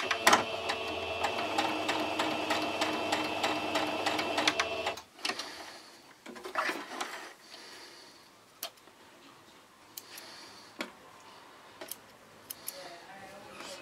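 A sewing machine stitches patchwork fabric with green thread for Christmas blocks, a fast rhythmic clatter for about five seconds, then stops, leaving quiet handling clicks and taps.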